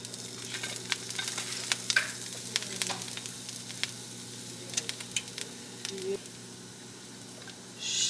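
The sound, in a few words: ginger and onion being stirred and frying in a pan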